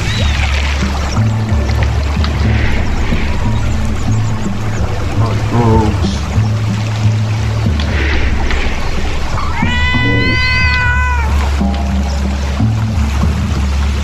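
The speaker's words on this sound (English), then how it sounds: "Is that an injured kitten there?" An injured kitten meows in the Shelter 2 game, a short rising cry standing out over a steady low rumble of ambient water and wind.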